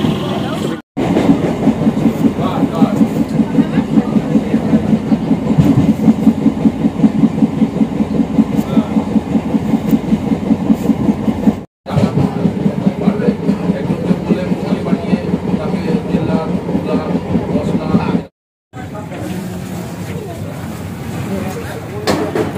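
Passenger train running at a station, a loud sustained rumble with rhythmic clatter and rolling rails filling the whole stretch, broken by brief cuts, with people talking over it.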